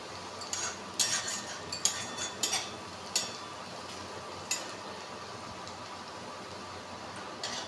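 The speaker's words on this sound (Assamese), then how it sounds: "মই বাৰে বাৰে পলটাই আছোঁ, নহ'লে পিঁয়াজখিনি জ্বলি যাব পাৰে।" A spatula scrapes and taps against a cooking pan while onions and potatoes are stirred, several sharp clinks spaced out over a low steady sizzle.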